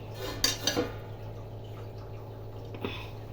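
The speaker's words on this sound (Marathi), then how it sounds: "आता आपण याच्यावर ताट ठेवूया" A metal plate is set down on a cooking pan over a low gas flame, giving a few quick clinks and one later soft clank over a steady background hum.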